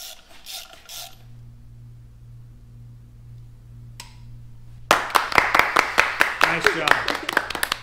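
A wrench tightens bolts on a new water pump, a rapid series of sharp, close ratcheting clicks in a quick rhythm after an engine-like hum and some short rustling. Voices are heard briefly.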